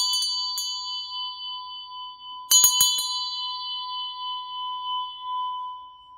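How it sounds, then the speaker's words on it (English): A small Tibetan bell rings out with a bright, sustained tone, struck twice softly and then again firmly, each strike shimmering and slowly fading. "I feel like I need to ring my, my Tibetan bell here."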